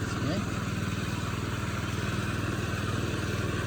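A Hecht 2650 motorized dumper drives along carrying a load, its small engine putting out a steady, fast-pulsing drone at moderate distance, with brief voices near the start.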